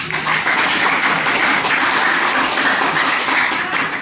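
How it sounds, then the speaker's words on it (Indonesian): Applause from a classroom full of students, a dense patter of clapping that carries on evenly for a few seconds. "tepuk tangan dulu untuk kelompok A"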